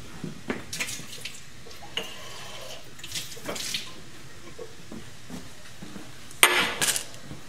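A glass lab flask is rinsed under a running tap, with soft water flow, scattered clinks of glass against the sink and a louder splash near the end, all fairly quiet.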